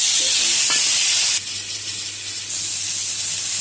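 Bitter gourd and potato sizzling in a pan, a loud steady hiss that drops in level partway through and keeps frying alone without talk.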